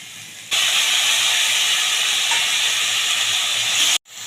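Tomato goes into a hot pan of partly cooked potatoes and sets off a loud, steady sizzling hiss that starts abruptly, holds for about three seconds, then cuts off.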